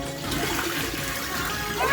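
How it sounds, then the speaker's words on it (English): Toilet flushing in an animated cartoon: a loud, continuous rushing swirl of water, close and steady, swelling slightly at the end. "And so the inedible hunk got flushed away, and he was never heard from again."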